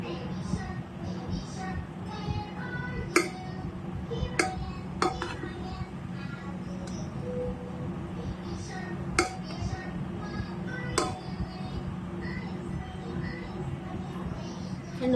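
Vegetable pulao is stirred in a pot, giving soft rustling scrapes with repeated sharp metallic clinks of the spoon against the rim, close and moderately loud.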